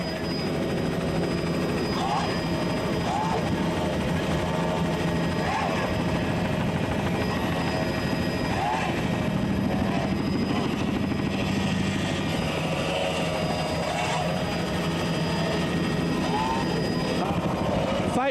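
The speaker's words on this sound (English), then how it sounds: "Listen to those engines scream." Grand Prix racing powerboats at the 1983 APBA Championships in Key West roar past in a continuous, high-pitched engine drone, with a rising and falling whine as boats pass and commentary-like voices faintly underneath.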